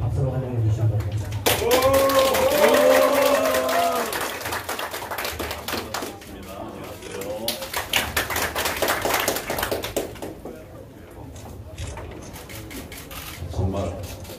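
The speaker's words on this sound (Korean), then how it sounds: "박수로 환영해 주시기 바랍니다" An audience at an apartment residents' meeting claps to welcome party leader Hwang Kyo-ahn, a dense patter of hands that starts quietly, thickens into steady applause and gradually fades, with a voice speaking over the middle and end.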